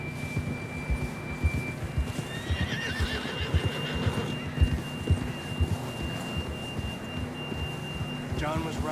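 A horse in the video game Red Dead Redemption 2 whinnies amid steady clip-clopping hooves and outdoor ambience, with a faint whistle-like tone running underneath.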